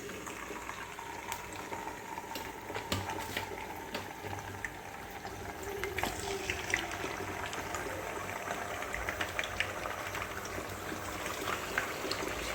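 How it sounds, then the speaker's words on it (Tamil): Steady bubbling and sizzling of hot oil in a pan before chicken goes in for biryani, continuous and fairly close, with scattered crackles and pops throughout. "எண்ணெய் கொதிச்சு வர ஆரம்பிச்சுட்டு நம்ம சிக்கனை உள்ளே போட்டுடலாம்."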